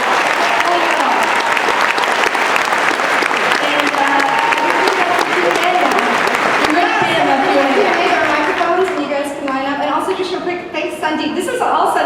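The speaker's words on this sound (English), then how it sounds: "Let's give a round of applause." Loud, sustained applause and cheering from a large crowd at a Comic-Con convention panel for The Guild, dense clapping that fills the room and begins thinning toward the end, with some voices mixed in.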